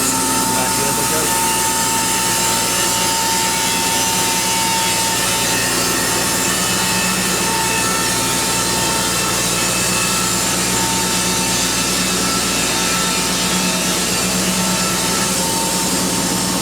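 Acuset-controlled sawmill cutting 16-foot wooden boards, a steady broadband saw and motor roar holding a constant level throughout without pause.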